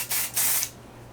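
Hairspray is sprayed onto short hair in two quick close hissing bursts, the second longer, followed by near quiet.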